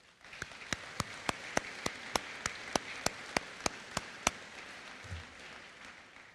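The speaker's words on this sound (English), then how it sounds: "let's give them all a round of applause" Clapping at a graduation ceremony comes as about fifteen crisp, evenly spaced claps, faint and somewhat distant, then a soft low thump as it fades.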